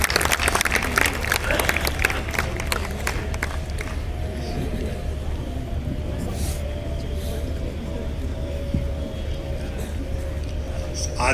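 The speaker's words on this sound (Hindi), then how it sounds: "इसी गुलाबी शोर में आप जोरदार तालियों के साथ संपत भाई का स्वागत करें।" A crowd applauds as a poet is welcomed onstage at a Vijay Diwas poetry gathering in Bhopal. Clapping is dense and loud for the first few seconds, then thins into a steady crowd murmur over a low hum.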